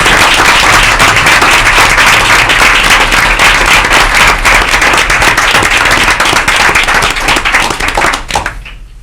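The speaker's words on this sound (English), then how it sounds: "Can we all give them a big hand of applause?" Audience at a school board meeting gives loud, sustained applause for honored student athletes, a dense crackle of many hands clapping close and strong for several seconds before tapering off at the end.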